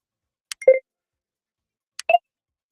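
A phone gives two short electronic beeps as it is muted during a call, each a quick click and double-toned blip, clear and isolated in silence about a second and a half apart.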